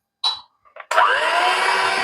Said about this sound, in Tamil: இப்போ நான் பீட்டர்ல வந்து மிக்ஸ் பண்ண போறேன்.